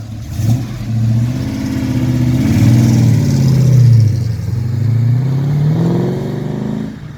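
A 1976 Holden Torana SL/R 5000 V8 fires up close by and revs, the engine rising and falling in several loud blips over a rumbling idle.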